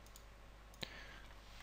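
A single computer mouse right-click, one short sharp tick in a quiet room, faint and alone with no talk.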